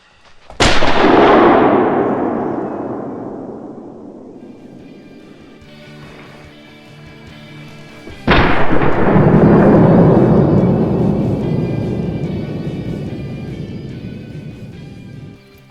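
Two loud 12 gauge shotgun blasts in theHunter: Call of the Wild, fired about eight seconds apart, each a sharp crack followed by a long, rolling echo that fades slowly.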